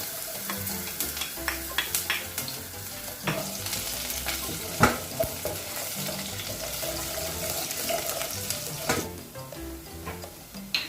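Garlic and onion frying in a pan in a home kitchen, with a continuous sizzle broken by scraping stirs and occasional clatter of utensils, close and fairly quiet.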